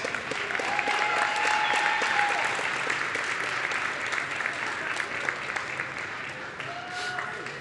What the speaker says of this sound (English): Let's give another round of applause for our junior knights